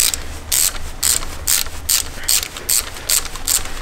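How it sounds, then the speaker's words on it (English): A ratchet on an extension undoing a bolt on a Lexus IS250 engine clicks in about eight loud, close, rhythmic bursts, each a short rapid run of pawl clicks separated by brief pauses. "undo this bolt"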